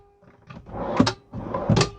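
Deep storage drawers in an Altair RS camper van being pulled open and pushed shut, two sliding movements each ending in a soft thunk, close by with no talking.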